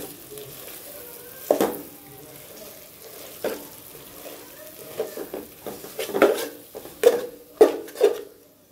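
Potatoes sizzling as they fry in a pan, with a steady soft crackle broken by repeated scraping knocks of a utensil stirring them, growing busier toward the end.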